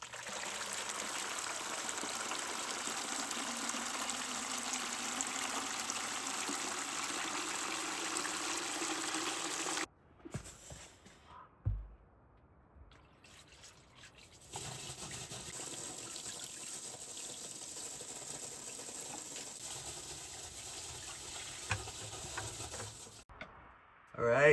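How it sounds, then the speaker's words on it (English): Buckets of water poured down a 39 ft hand-dug well onto bentonite chips, heard as a faint, steady rushing wash that breaks off for a few seconds of near-silence and then resumes. "just dumped a whole bunch of buckets of water down there to saturate it all"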